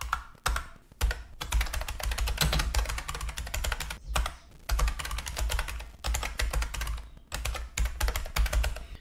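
Continuous typing on a computer keyboard while writing a note, rapid clicking keystrokes in bursts with a few short pauses, close and clear with no talking.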